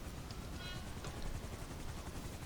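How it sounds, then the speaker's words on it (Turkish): A helicopter in the video game GTA 5 produces a faint, steady rotor chop with a low rhythmic pulsing, heard alone without talk. "Ben şimdi çıkıyorum helikopterle."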